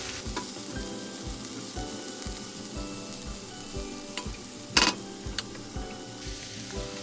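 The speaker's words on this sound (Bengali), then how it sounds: "ভালো করে নাড়িয়ে চাড়িয়ে পেঁয়াজ আর কাঁচা লঙ্কাকে গোল্ডেন ব্রাউন করে ভেজে নিচ্ছি।" Onions and green chillies frying in a pan until golden brown while being stirred, a continuous sizzle broken by regular low scraping thumps of the spatula and one sharp clatter.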